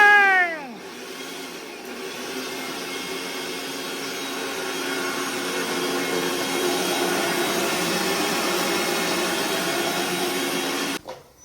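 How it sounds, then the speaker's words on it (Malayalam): A kitchen mixer grinder blends coconut for coconut milk, starting with a rising whine and then running as a steady, loud motor drone for about ten seconds before cutting off abruptly. "ഞങ്ങളുടെ മിക്സിക്ക് നല്ല ശബ്ദമാണ്."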